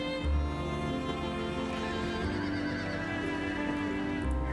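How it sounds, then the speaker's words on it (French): Black horses with red eyes neigh and whinny in the Dracula Origin video game, a loud, drawn-out whinny carrying over a steady droning game soundtrack, with faint hoof clops beneath. "Ces chevaux noirs ont des yeux rouges qui trahissent la nature de leur propriétaire"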